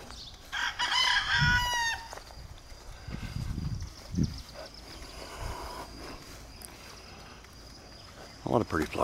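A rooster among backyard chickens in the early morning crows clearly near the start, with low clucking and bursts of a voice talking throughout and a faint steady insect chirr behind.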